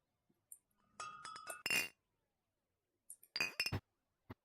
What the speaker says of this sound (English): sound of clinking glass